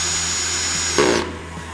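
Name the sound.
power drill running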